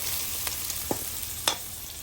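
Garlic and onion fry in a pan while cooking Batangas lomi, giving a steady close sizzle with a few light stirring clinks and no talk.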